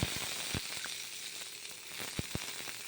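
Garlic, dry red chillies and black cumin fry in hot oil with a soft, continuous sizzle, a few spoon clicks against the pan rising above it.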